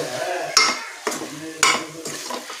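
Onions sautéing in a pan for a chicken gravy, with a loud sizzle broken by three or four sharp scrapes and knocks of a stirring spoon against the pan. There is no talking.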